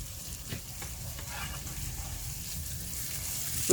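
Mushrooms sizzle steadily in a hot frying pan with onion going in, giving a close, continuous frying hiss with faint scraping near the end.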